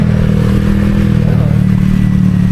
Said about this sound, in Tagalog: Rinig yung lakas ng motor